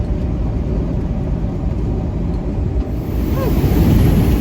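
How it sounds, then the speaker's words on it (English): Strong, steady wind roars and buffets close to the microphone, a dense low rumble that swells slightly louder near the end, with no talking. "Very windy down here."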